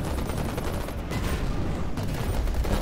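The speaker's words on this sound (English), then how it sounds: "There's my Gauss cannon." Sustained weapon fire from a Gauss cannon in the futuristic racing game Pacer, a dense continuous barrage of crackling shots layered over steady engine and action noise, loud and unbroken throughout.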